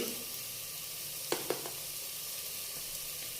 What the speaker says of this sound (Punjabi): ਉਦੋਂ ਤੱਕ ਆਪਾਂ ਟਮਾਟਰਾਂ ਨੂੰ ਭੁੰਨਾਂਗੇ